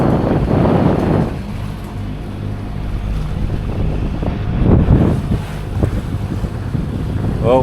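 A sailboat motoring out of Bora Bora through the reef entrance, with steady engine and water rush under heavy wind buffeting on the microphone.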